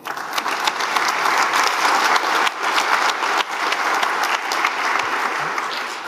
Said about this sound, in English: so applause already now